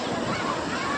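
Sea waves wash in and pull back at Mypadu beach near Nellore, a broad, steady rush of surf close by, with voices faintly in the mix.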